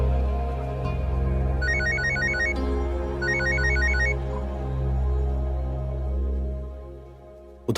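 A phone rings with two bursts of a bright electronic ringtone over a low droning background, with no one speaking.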